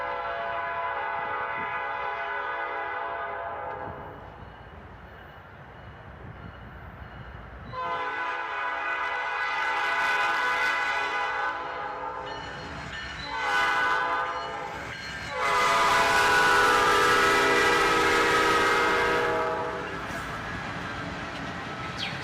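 A covered hopper freight train led by two Canadian National locomotives rolls past, a continuous rumble and rattle of wagons. Loud horn blasts sound through the middle, and the longest, strongest blast comes near the end.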